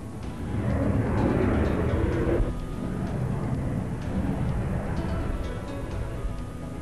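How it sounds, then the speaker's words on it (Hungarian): A Harrier jet at a military air show in Kecskemét produces a broad, distant turbine roar that is strongest early on and then settles into a steady, fainter rumble. "A Harrier repülőgépek korszerűsítése folyamatosan zajlik, most az egyik legkorszerűbb változatát láthatjuk."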